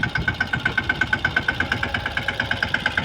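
A mini tractor sows groundnut in a green field, its engine thumping in a steady, rapid, evenly spaced chug, close and loud with no talk.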